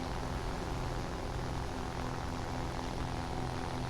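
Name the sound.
P-40 Allison engine, from video game War Thunder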